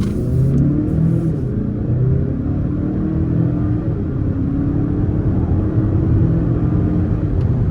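A Mazda CX-5 engine revs and pulls hard under acceleration from a standstill, a loud, steady low rumble that holds throughout with no voices.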